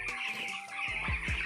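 Broiler chicks about thirteen days old in a poultry shed, a steady dense peeping chorus running throughout, with a few lower clucks and soft thumps near the end.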